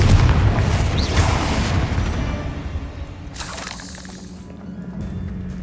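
A spell explosion in the Hogwarts Legacy video game, heard as one loud booming blast with a crackle and a rumbling tail over dense background game sound.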